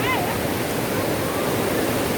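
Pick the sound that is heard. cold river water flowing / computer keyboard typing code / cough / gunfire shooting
cold river water flowing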